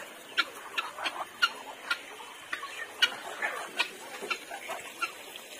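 Chickens peck at one another, making a steady series of sharp, light taps about every half second, with faint clucking and quiet background hiss.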